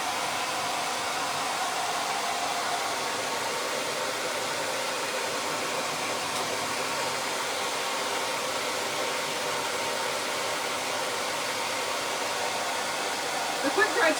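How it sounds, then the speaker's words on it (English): A hair dryer blows hard and steadily at close range, a loud continuous airy roar that holds unchanged throughout. "The hairdryer is quicker than the quick dry tool."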